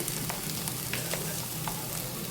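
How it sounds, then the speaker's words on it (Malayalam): Chili powder goes into a pan of frying chicken curry with turmeric, giving a steady, close sizzle with faint crackles throughout and no talking. "അതിനുശേഷം നമ്മൾ ഇടുന്നത് മുളക് പൊടി"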